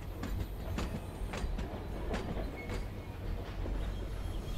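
A tram rolls along its rails in Syberia: The World Before, with a steady low rumble and scattered clicking wheel noises over about five seconds, no talking.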